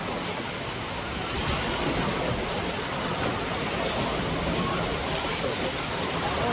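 Waves surge steadily in a hotel wave pool at Cap Pirate in Agde, a broad, constant rushing wash that fills the scene with no clear breaks and no voices.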